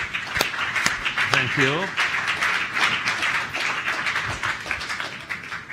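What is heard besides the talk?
audience applause for Paolo and Demetrio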